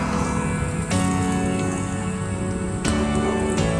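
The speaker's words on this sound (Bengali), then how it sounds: "আমি এখানে রেড ক্যাপসিকাম ইউজ করছি। হালকা করে আমি ভেজে নেব।" Chopped onion and red capsicum frying lightly in a hot pan, a steady close sizzle with crackling spits running throughout, no voices.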